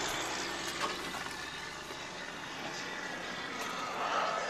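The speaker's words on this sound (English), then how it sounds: "Little private jet." A small private jet passes overhead near an airport with a steady, broad engine roar, fairly distant, swelling slightly toward the end with no voices.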